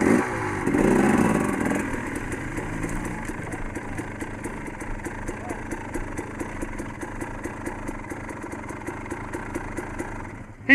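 Motorcycle climbing a rocky Pennsylvania hill, its engine chugging in a steady low rhythmic thump at moderate distance, with a brief louder rise at the start and no clear talk.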